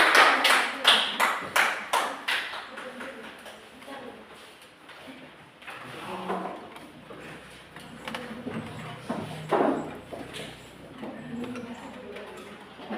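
Students in a classroom break into a short burst of clapping that fades within a couple of seconds, followed by a teacher speaking and scattered small taps and knocks around the room.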